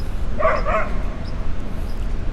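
A pair of quick dog barks at a distance in a quiet New York City park over steady outdoor ambient noise, followed by quieter background sounds.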